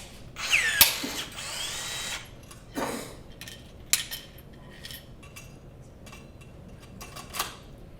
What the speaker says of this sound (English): This is a battery-operated rivet gun.